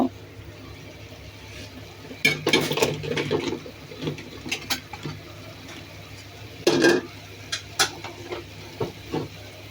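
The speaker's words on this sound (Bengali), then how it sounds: "আমি এখন ভেন্ডিগুলো দিয়ে দিব।" Okra tossed into a cooking pot gives a few brief clattering splashes and stirring knocks of pot and utensil, close and moderately loud, scattered across a quiet kitchen background with soft talk.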